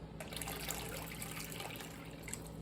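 Water runs steadily into canning jars packed with pineapple, a continuous close trickling and pouring with no speech over it.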